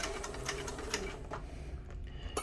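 A sewing machine stitching leather for a purse runs steadily with rapid repeated stitching clicks, close by and fairly loud, with no voices.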